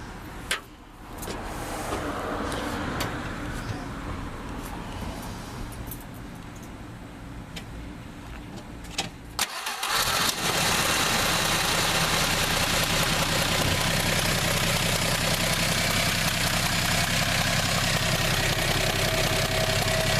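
A Chrysler Slant Six car engine runs quietly, then turns over and catches around the midpoint, settling into a loud, steady idle close by.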